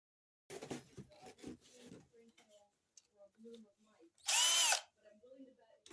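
A short, loud whir from a pink power drill runs for about half a second, preceded by rustling handling noises and a few brief speech-like sounds, while taping around a compost bin.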